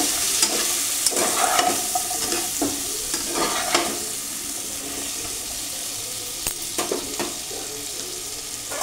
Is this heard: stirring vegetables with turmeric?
yes